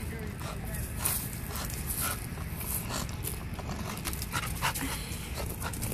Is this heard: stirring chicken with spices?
no